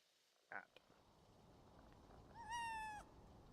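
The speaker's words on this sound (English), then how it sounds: "Cat." A cat gives a short chirp and then a clear, drawn-out meow close by, against a quiet background with a voice around it.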